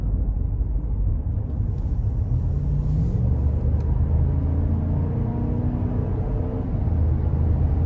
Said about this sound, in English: We'll give it a little throttle here getting on the interstate